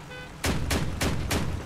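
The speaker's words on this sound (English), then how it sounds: "Listen to them cannons" Cannons fire in the vehicle combat game Crossout, four heavy booming blasts in quick succession, each loud and punchy over a low engine drone.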